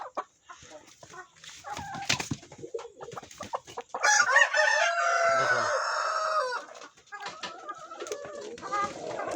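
Tiger breed chickens on a farm, a rooster giving one loud, drawn-out crow amid steady clucking and scattered hen calls nearby.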